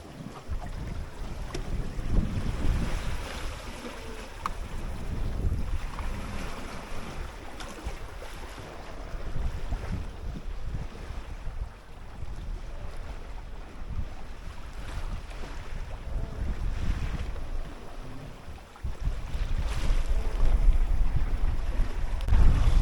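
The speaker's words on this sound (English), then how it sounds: "Well, the wind has dropped off quite a bit, so we've got our full working sail up." A 21ft sailboat moving under full working sail in light wind on the open Atlantic, with steady wind rush and water washing along the hull that swells and eases throughout, and no voices.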